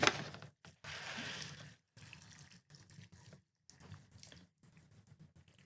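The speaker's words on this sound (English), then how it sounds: "So I'm going to add the boiling water." Boiling water is poured from a kettle onto instant noodles for Thai chicken curry hot noodles. It comes as a steady splashing stream that stops and starts in several short bursts, close by, with no talking.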